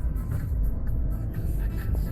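A small car, either a Fiat Doblo or a Peugeot 107, labours up a steep hill, its engine a low, steady rumble that sounds strained and bogged down across the whole stretch, with no voices over it.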